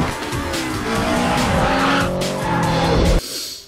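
Car tyres squeal and skid through a film car chase from 2 Fast 2 Furious (2003), a loud sustained screech with the engine roaring beneath it that cuts off sharply near the end.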